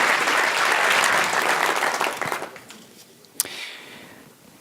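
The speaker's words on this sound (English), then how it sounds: "How about one more round of applause for them?" Loud applause from a crowd at an annual meeting fills the first half, then thins to scattered claps and fades, with one sharp clap near the end.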